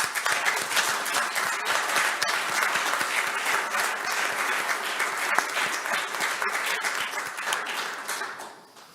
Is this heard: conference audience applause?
yes